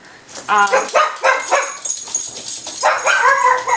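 A small dog barks and yips repeatedly up close, loud and insistent, in quick bursts throughout.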